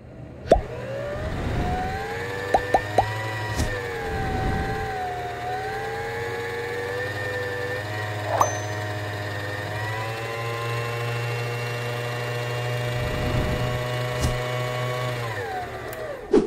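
A Singer sewing machine motor winding a bobbin whirs steadily for a long stretch, with small clicks and a few soft knocks, no speech.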